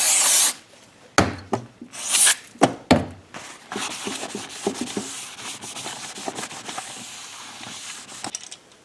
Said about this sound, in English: clean this up with some brake cleaner